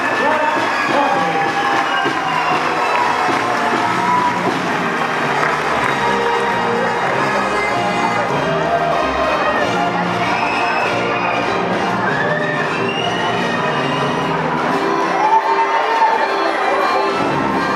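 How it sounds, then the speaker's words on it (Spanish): A crowd cheering, shouting and clapping for a children's queen at a pageant presentation, with loud continuous mixed voices and applause throughout. "Y le damos un fuerte aplauso a Rosy Clark Rodney."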